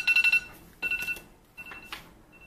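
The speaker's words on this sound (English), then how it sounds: "Shout out to my alarm." An electronic alarm beeps in short repeated bursts of high tones, with brief pauses between them, fairly close and clear.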